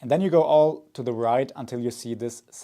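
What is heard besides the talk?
No distinct noise like a dog, phone or traffic.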